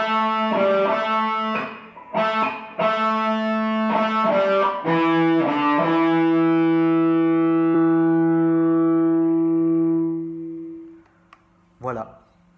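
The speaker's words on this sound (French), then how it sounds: "il vous faudra une distorsion, comme vous pouvez l'entendre" Distorted electric guitar plays a riff, a close, loud run of sustained chords and bent notes that rings out and fades, then a couple of brief plucks at the end.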